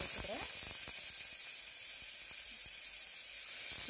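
Onion and fennel seeds fry in hot oil for a Tamil chickpea gravy, giving a steady bright sizzling hiss with scattered pops and crackles, close and constant, while a voice talks faintly over it.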